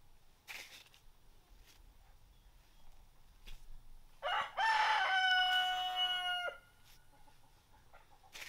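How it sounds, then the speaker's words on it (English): A loose chicken outdoors gives one loud, drawn-out crow lasting about two seconds, preceded by a few faint clucks and soft background noise. "We have a loose chicken out there."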